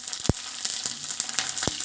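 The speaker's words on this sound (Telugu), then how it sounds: "జస్ట్ లైట్గా ఫ్రై చేసుకొని మనం వేసుకునేద్దాం." Mustard seeds, dried red chillies and curry leaves frying in hot oil for inji puli, a constant crackling sizzle punctuated by a couple of sharp pops.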